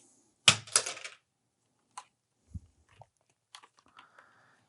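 A surgical handpiece for a CF cutter is pulled out of its plastic packaging: a burst of crinkly plastic rustling, then a few sparse, soft clicks and taps, close and alone.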